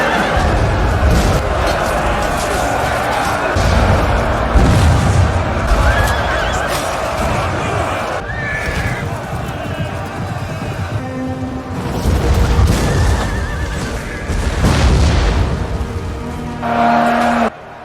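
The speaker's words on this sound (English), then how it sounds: "explosive ballista shells that had already begun to bomb the units of the knights" A video game battle in which explosive ballista shells bomb mounted knights, heard as a loud, dense roar of battle noise with booming impacts, horse whinnies and shifting tonal swells throughout.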